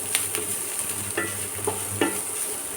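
Chopped onions and coconut sauté in a pan for chana masala, a steady close sizzle with a few distinct scrapes and stirs of a spoon against the metal; no speech.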